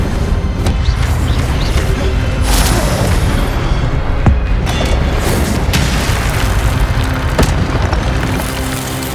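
An Incendio fire spell blast in the Hogwarts Legacy video game, heard as a loud roaring whoosh with heavy booming impacts and sharp cracks repeating over a dense, continuous rumble.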